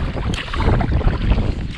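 Strong wind buffets the microphone while paddling a Hornbeck boat on water during a spring whiteout in Vermont, a steady loud rumbling gust with no talk.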